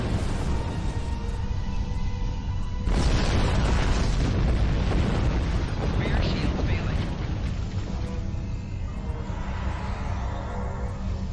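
Torpedo explosion in a Star Trek Online space battle, a sudden loud broadband boom that bursts in and then rumbles on as a sustained roar, layered with continuous game effects.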